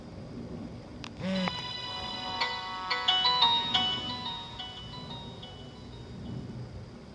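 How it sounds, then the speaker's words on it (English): A Samsung phone plays its startup sequence: a brief bright chime rises into a ringing run of clear electronic tones that decay slowly, moderately quiet over faint room noise. "This is my Samsung's startup sequence."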